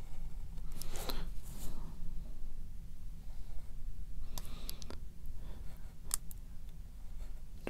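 Small pieces of a Revell 1:144 Fairplay Tug plastic model kit are snipped off, a few quiet, close cutting clicks in bursts against a steady low background hiss.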